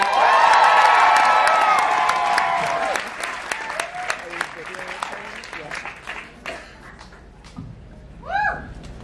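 A comedy club audience applauds and cheers a comedian being welcomed to the stage: dense, loud clapping with whoops that thins out over several seconds, ending in a few stray claps and a rising whistle or shout.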